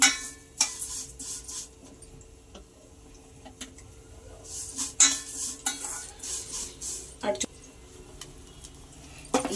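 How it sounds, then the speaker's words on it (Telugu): Sago and vermicelli frying in ghee while a spoon stirs the pan, a soft sizzle under scattered metallic scrapes and clinks against the vessel, with a voice talking over it. "ఇట్లా అడగంట కాకుండా ఇలా తిప్పాలండి"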